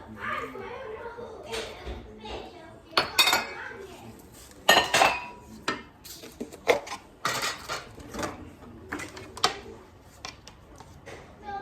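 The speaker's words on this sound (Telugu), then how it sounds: "పెరుగు వేసి కలిపిస్తున్నామండి మొత్తం మ్యారినేట్ చేసి పెట్టుకోవాలి" Yogurt being mixed into a biryani marinade in a bowl, with a spoon clinking and scraping against the dish in irregular bursts, close by, while someone talks intermittently over it.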